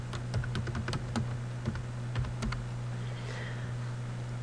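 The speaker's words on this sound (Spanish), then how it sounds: "Y voy a ingresar un password." Rapid keystrokes on a computer keyboard as a password is entered, a quick irregular run of sharp clicks close by over a steady low hum, with no talking.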